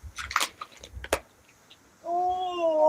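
A cat in a sewing room lets out one drawn-out, tonal meow near the close, after a stretch of scattered soft rustles and clatter; no one speaks.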